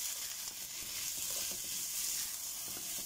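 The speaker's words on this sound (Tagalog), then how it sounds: "Igigisa lang natin ito sa" White bitter gourd, puting ampalaya, sizzles steadily as it is sautéed in a hot pan, a constant close frying hiss with faint stirring clicks and no talk.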